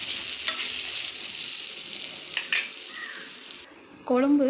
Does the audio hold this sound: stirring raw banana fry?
yes